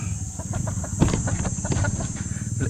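Chickens clucking at feeding time on a backyard farm, with a string of short, close, irregular clucks over a steady background hum, fairly quiet and without speech.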